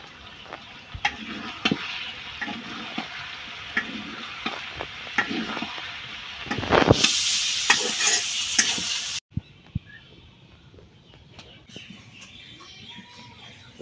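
Bitter gourd curry with chicken skin and green chillies stir-fries in a pan, with close sizzling, repeated scraping stirs and a louder burst of frying midway, then quieter clatter, with faint chicken clucks in the background.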